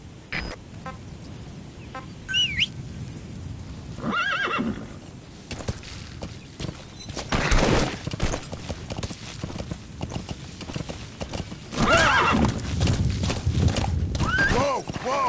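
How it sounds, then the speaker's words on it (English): In Metal Gear Solid V, a horse whinnies several times over steady clip-clopping hooves, with men calling out and talking in between. "Use your horse."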